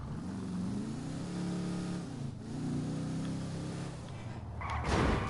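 An old car's engine driven in GTA Online: a revving motor climbs and dips in pitch under acceleration, ending in a brief harsh burst of noise.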